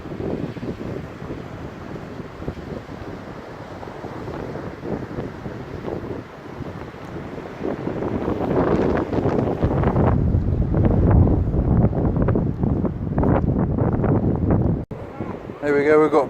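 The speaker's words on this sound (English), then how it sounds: "it's quite windy, as I'm sure you can hear." Wind blowing on a rocky beach with rock pools, a loud continuous rush and buffeting against the microphone that swells stronger midway, with a person talking underneath.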